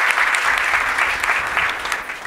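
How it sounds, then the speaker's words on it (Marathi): Audience applause at a poetry and ghazal gathering, a dense, steady burst of many hands clapping close by for about two seconds, with no voices over it. "एकदा जोरदार टाळ्या झाल्या पाहिजेत"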